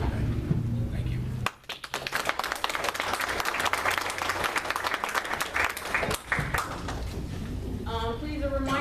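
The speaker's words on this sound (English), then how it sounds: "a reminder to hold your applause until after they're done speaking" Loud applause from an audience at a political candidate forum in Long Beach, sustained clapping with a brief lull partway through, then a voice begins speaking as it fades.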